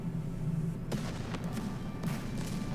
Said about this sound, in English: a massive explosion triggers underneath her